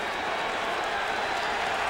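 A stadium crowd at a 2004 Monday Night Football game between the Broncos and the Bengals applauds as an injured player leaves the field, a steady broad wash of clapping and crowd noise, with faint voices under it.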